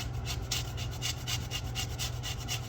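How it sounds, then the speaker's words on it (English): A lemon being zested on a dull cheese grater, quick rhythmic scraping strokes about five per second, close and fairly loud, with no talk over it. "I think I'm almost out of zest. Either that or my cheese grater is getting very dull."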